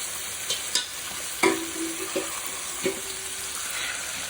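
Chicken with chickpea leaves (శనగకూర) frying in oil, a steady soft sizzle with a few sharp stirring clinks and scrapes spread through, close by and fairly quiet, with no talking.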